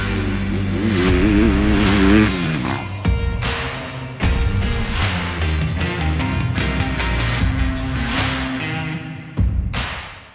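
A 2021 Yamaha YZ250F motorcycle engine revs and pulls hard while being ridden, its tone rising and falling steadily throughout, loud and close with no talking.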